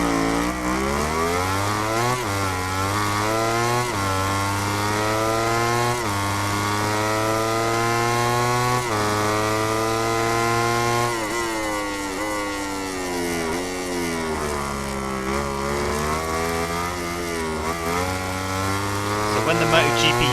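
MotoGP 17 racing game motorcycle engine, a loud, continuous high-revving whine that climbs through the gears in repeated rising sweeps with sharp shift drops, steady and close throughout.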